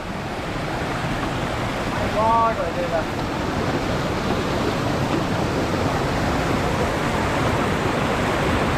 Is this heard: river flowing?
yes